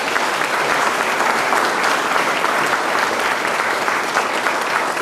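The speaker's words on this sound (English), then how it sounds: "one more round of applause for all the panelists" Dense, sustained applause from a seated audience for the panelists at an economic strategic planning summit, loud and even throughout with no pauses.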